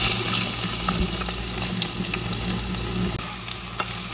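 Onion and garlic sizzle in oil in a hot wok-style pan, a steady continuous frying hiss with occasional stirring scrapes, close and fairly loud, no talking.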